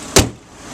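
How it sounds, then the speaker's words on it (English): A BMW hood slams shut in one sharp, loud thud that fades quickly into a quiet engine hum, with no voices. "But let's close the hood"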